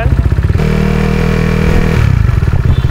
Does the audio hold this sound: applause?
no